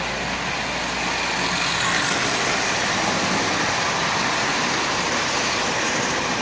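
A Marx 1938 Commodore Vanderbilt tin toy train engine, run on compressed air at half power, hauling sixteen tin litho cars, gives a steady, dense whirring rush that holds level and close throughout with no voices.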